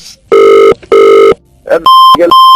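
Telephone ringing in a loud, repeated pattern of two long trilling rings, then a higher electronic beeping tone, close and alone with no speech.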